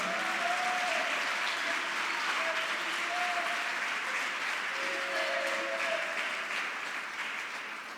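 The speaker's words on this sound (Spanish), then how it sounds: "¿Por qué no le das un aplauso al Señor en esta hora?" Church congregation applauding the Lord during a sermon, dense continuous clapping from many people that holds evenly and tapers off at the close, with a few faint voices under it.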